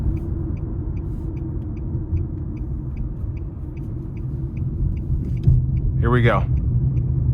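Steady low rumble of a 2025 Nissan Sentra S engine and road noise from inside the cabin, swelling slightly as the car pulls hard onto an interstate, with a brief spoken remark over it.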